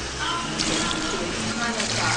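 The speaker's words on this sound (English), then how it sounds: "As you notice, it's a normal shower pressure." Shower water runs at normal pressure during hair washing at a hair transplant clinic, a steady hiss of spray that continues under a person talking.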